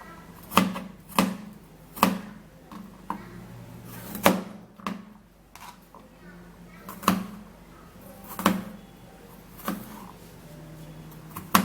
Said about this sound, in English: So we'll have to cut that in little pieces.